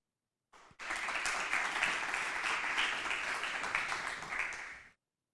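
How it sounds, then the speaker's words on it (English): Conference audience at an AI forum giving a warm round of applause for a remote speaker, dense even clapping that starts abruptly, holds steady for about four seconds and cuts off cleanly. "a warm applause for our remote speaker"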